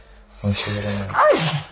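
A single sharp sneeze bursts out close by amid someone speaking Russian, with talk before and after it.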